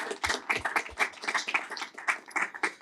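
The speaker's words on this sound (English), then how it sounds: "So please give them a round of applause." Audience applause in a talk-show setting, a steady burst of hand clapping for nearly three seconds, moderately loud and close, with no talking over it.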